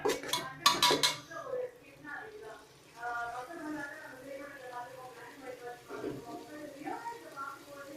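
A spoon stirs and scrapes through ingredients sautéing in a pan for Tamil fish curry (meen kulambu), with a burst of close metallic clinks at the start and then softer steady stirring under talking.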